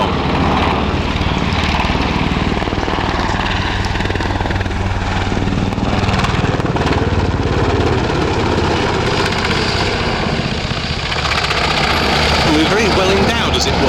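A German Army NH90 TTH helicopter flies a display at RIAT 2024, its rotor and turbine drone steady and loud throughout, with a commentator talking over it.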